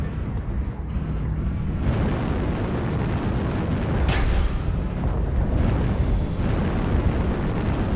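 Airstrike explosions in a mech combat video game: a continuous loud rumbling roar of blasts with a sharper burst near the middle, dense and sustained throughout.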